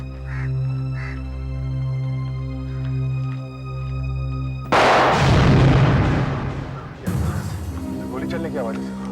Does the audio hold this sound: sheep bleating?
no